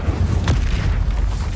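An Incendio fire spell from Hogwarts Legacy bursts out as one loud rumbling whoosh over a constant low, booming game soundscape, close and heavy.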